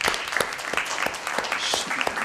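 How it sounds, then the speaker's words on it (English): Audience applause at a development policy conference session, a brief dense burst of clapping from a seated crowd at steady volume. "let's give a big applause to her"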